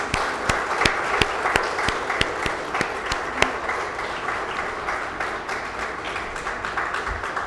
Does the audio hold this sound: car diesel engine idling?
no